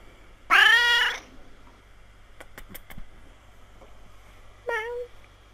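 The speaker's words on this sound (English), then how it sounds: "Kitty!" A cat meows loudly and close by, one drawn-out cry, then a few faint clicks, followed by a second shorter meow, set against a quiet room hum.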